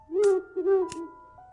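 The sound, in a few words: owl hooting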